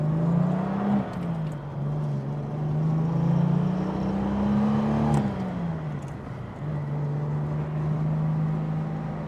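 A Jaguar MK2 saloon engine pulls in first gear, its hum rising and falling in pitch as it accelerates, with road noise steady underneath.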